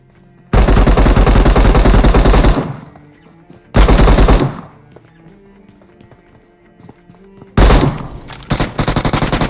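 Gunfire in a battle royale video game, with long loud sustained bursts of rapid automatic fire separated by quieter gaps holding faint game sounds, ending with another burst breaking into choppy shots.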